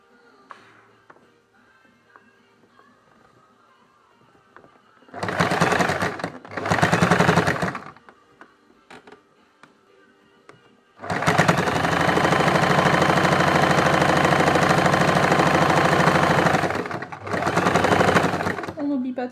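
A sewing machine stitches a fabric face mask in short bursts, first two quick runs and then a long steady whir followed by one more burst, with quiet pauses between them.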